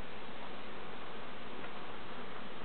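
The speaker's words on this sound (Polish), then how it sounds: "Te pszczoły to są ogłupiałe." Honey bees buzz around a beekeeper working at the hives. A steady, dense, even hum fills the whole stretch with no clear breaks.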